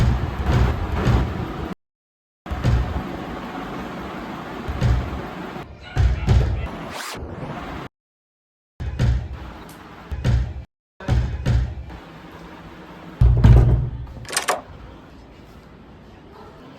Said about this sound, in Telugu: ఒకసారి డోర్ కొట్టి చూద్దాం లోపల ఉన్నాడేమో.